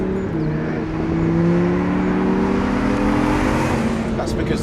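A Lamborghini Huracan's engine drones steadily with rising harmonic tones, a smooth continuous rev heard close and fairly loud throughout.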